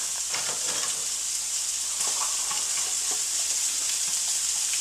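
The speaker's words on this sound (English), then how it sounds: "I'm going to add my onions and my fennel. It's got to make sure it's a hot pan" Onions and fennel sizzle and fry in a hot oiled pan, a steady close, bright crackling hiss with small pops running throughout, no voices.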